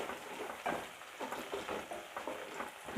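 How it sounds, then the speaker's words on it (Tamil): Green chillies and onions sautéing in a pan for a fish curry, a soft continuous sizzle with occasional stirring scrapes, close and moderately quiet, no speech. "பச்சை மிளகாய் சேர்த்து நல்லா வதக்கிக்கிடலாம்."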